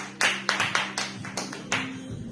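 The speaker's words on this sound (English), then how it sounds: "let's clap for her." A few people clap at a New Year's Eve vision board party at home: sparse, uneven bursts of hand claps from a small group, fairly close, with a faint background hum and no talking.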